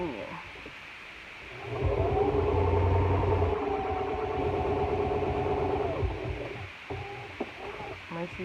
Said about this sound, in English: So back to the sewing machine.